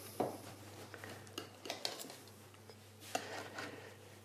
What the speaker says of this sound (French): on va le couper en parts